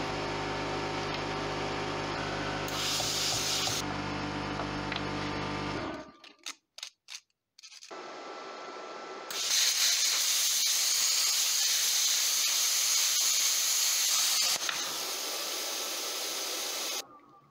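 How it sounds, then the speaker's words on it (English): Susemse CUT-50 plasma cutter cutting metal with its arc and compressed air stream, giving a steady loud hiss that breaks into a few short sputtering bursts, then returns as a strong sustained hiss. "There's a button here, which both turns on the arc and the compressed air stream."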